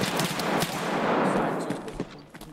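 Rapid burst of automatic gunfire in a first-person shooter match, dense crackling shots packed together over a couple of seconds, then thinning into a few scattered reports near the end.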